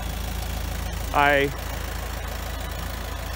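A Kubota M6S tractor engine idles with a steady low rumble throughout, while a person briefly speaks over it.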